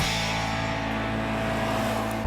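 Toyota Corolla underway on the road, a steady low engine drone and tire hum holding constant and close with no pauses or voices.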